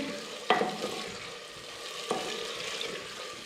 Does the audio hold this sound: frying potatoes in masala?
yes